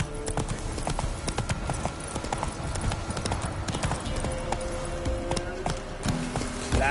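Hooves of Roach, the horse in The Witcher 3, clatter in a rapid, steady galloping clip-clop with dense rhythmic thuds and a faint snort near the end, with no voices over it.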